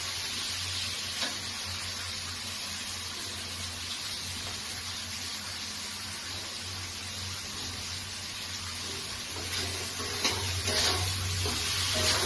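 Potatoes and tomatoes fry gently in a pan, giving a steady, fairly quiet sizzle that holds evenly throughout with a slight rise in crackle near the end.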